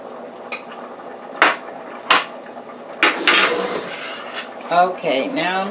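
A fork scrapes and clinks against a cooking pot while mixing flour into beef stew broth, giving several sharp metallic taps and scraping strokes up close with a short burst of talk near the end.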